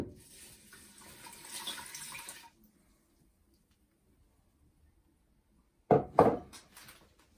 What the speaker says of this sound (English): And then I'm going to pour it into the Ninja Foodie.